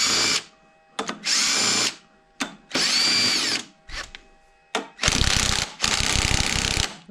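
Ratchet clicking in several close, loud bursts while loosening bolts on a GM differential, a GM/Merkur hybrid limited-slip unit, with short pauses between bursts and heavier bursts near the end.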